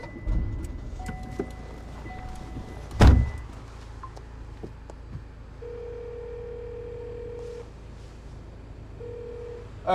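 A telephone rings indoors in two quiet, steady tonal bursts, the first longer than the second, over a low background hum, after an earlier single thump.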